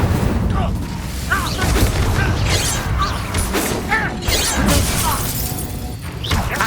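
An Incendio fire spell is cast in Hogwarts Legacy amid a loud, busy combat mix of whooshing bursts, crashes and clattering impacts, with a voice calling out over the continuous din.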